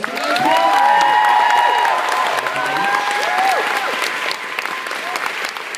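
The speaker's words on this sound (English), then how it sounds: "your round of applause to all of us." A convention audience at MCM Scotland applauds and cheers in a sustained burst of clapping with scattered whoops. The sound is steady and fairly loud, with some voices mixed in.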